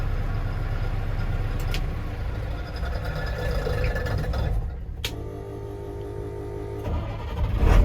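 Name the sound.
truck engine starting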